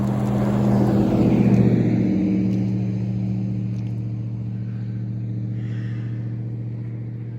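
Light traffic on a snowy road in Bangor, Maine during a snowstorm: a car passes fairly close with a swelling engine rumble, then fades to a low, steady hum. No one speaks.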